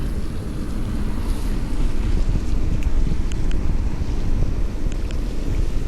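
Steady outdoor rumble of wind buffeting the microphone, with a constant wash of rain or water noise and no voices, at a construction site in central Vientiane, Laos.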